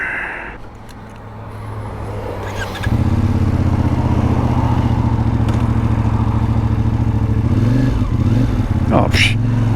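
A CFMoto Ibex 450 motorcycle engine runs after a clutch safety bypass, idling low and then settling into a loud, steady, rumbling run with some clatter.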